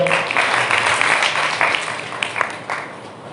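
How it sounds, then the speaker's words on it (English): An audience at a college annual function for the English Department at Bareilly College bursts into a steady wash of applause, dense clapping that holds level and slowly tapers. "Please give a huge round of applause to both of us."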